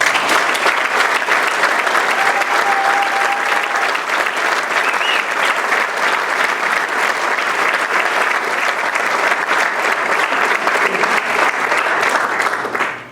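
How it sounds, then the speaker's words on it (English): Sustained, loud ovation from a large crowd at a hall of fame ceremony, dense continuous clapping with cheering that holds steady for the whole stretch before cutting off at the end. "give you guys the ovation that you deserve"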